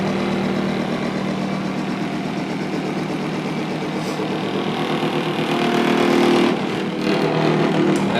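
An engine runs steadily with the microphone right beside it, a loud, even, close-up drone that swells slightly near the end and carries no talk.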